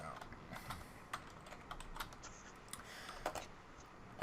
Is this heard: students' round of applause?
no